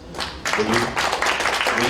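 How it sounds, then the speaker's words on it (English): Sustained applause rises from an audience at a speech, a steady wash of many hands clapping that swells after a brief opening and holds evenly loud throughout. "That deserves a round of applause."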